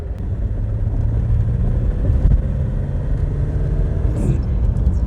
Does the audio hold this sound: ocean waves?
no